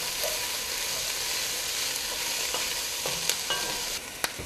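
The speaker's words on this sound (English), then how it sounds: "And add the garlic and cook for about 2 minutes more, just until the garlic is slightly cooked." Sliced jalapenos and garlic frying in a pan, a loud, continuous close-up sizzle with a few light scrapes and taps of a utensil near the end, no voices.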